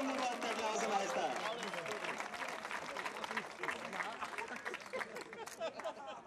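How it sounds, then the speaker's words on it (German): A crowd at a speedway event claps in a dense, continuous patter of applause, with an announcer's voice carrying over it. "Und meine Damen und Herren, einen mächtigen Applaus."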